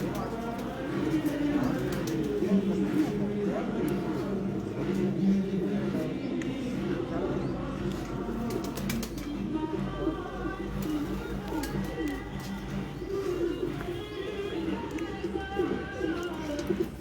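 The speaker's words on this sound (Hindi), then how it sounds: "जिधर जिधर तक कैमरा जा रहा है उधर तक माशाल्लाह कबूतर है।" Pigeons, a flock of around forty on the ground, coo steadily throughout, with murmured voices and outdoor bustle running underneath.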